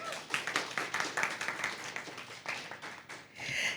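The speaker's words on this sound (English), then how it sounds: "Another round of applause." Audience clapping after a speech in a school debate round, a dense patter of many hands at fairly low level, swelling and dipping in waves and rising again at the end.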